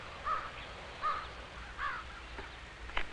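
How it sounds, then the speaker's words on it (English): A crow calls near its nest, giving three or four harsh caws spaced about three-quarters of a second apart, moderately close and alone with no talk. "And the mother bird's call. All these are signs that tell us a crow has its nest here."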